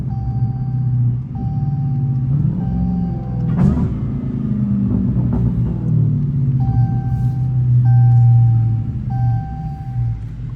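A catless Dodge Hellcat driven hard gives a loud, deep engine rumble that swells and eases with throttle, close up, with a sharp knock partway through and a repeating electronic chime over it, no talk.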